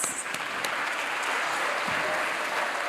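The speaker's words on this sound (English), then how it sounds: "So applause to all of us." Audience at an annual program applauds, a dense burst of clapping filling the room continuously, loud and close, with no speech over it.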